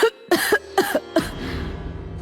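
A woman coughs in a harsh, repeated fit, four sharp barking bursts in close succession, near and loud, the last one trailing into breathy, rattling noise.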